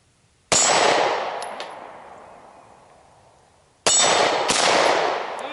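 Two sharp gunshots, each followed immediately by a bright metallic clang of a round striking a steel target, the ringing decaying slowly between shots outdoors at a shooting range.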